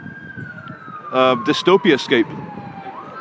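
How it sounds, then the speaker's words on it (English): An ambulance siren wails steadily through a desolate edge of Warrington, its pitch sliding down as it drives past, while someone briefly speaks over it. "We'll get a little ambulance drive-by, a few seconds of it"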